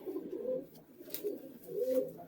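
A pair of Giribaz flying pigeons coo softly, with low, faint burbling calls that rise and fall in a few gentle swells.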